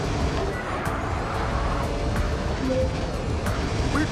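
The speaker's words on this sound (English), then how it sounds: "Considering all the cars here are electric, why do they make so much noise?" Electric cars in a city street in the video game MindsEye give off a constant roadway roar, with a steady loud motor hum and passing traffic that never stops.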